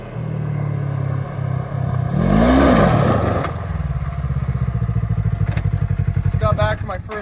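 A vehicle rolls over gravel at a steady cruise, its engine droning low with a brief rev swell midway, followed by a rapid rhythmic crunching pulse and a few sharp clatters near the end.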